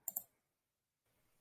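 Two quick, faint clicks of a computer keyboard while typing up an MLA-format paper sound close together, then give way to near silence.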